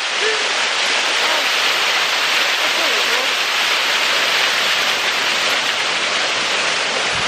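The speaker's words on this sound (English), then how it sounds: "It's a really cool waterfall" A waterfall near a cabin in the woods pours as a steady, dense rushing hiss, loud and unbroken for the whole stretch, with no voices.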